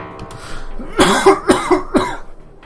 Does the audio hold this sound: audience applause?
no